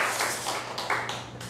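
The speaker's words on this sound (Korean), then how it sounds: "박수! 박수! 박수! 박수!" A church congregation claps during a sermon in several quick, loose bursts of moderately loud handclaps, with a faint sustained background tone.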